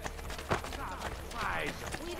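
Horse hooves clip-clop at a steady walk in Assassin's Creed Brotherhood, running quietly beneath ongoing conversation and street ambience.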